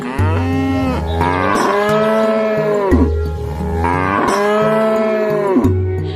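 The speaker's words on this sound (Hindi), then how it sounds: "कपिला गाय डर के मारे जोर जोर से रंभाने लगती है।" A frightened cow moos loudly and repeatedly, long drawn-out bellowing calls rising and falling in steady succession, close and dominant with no talking.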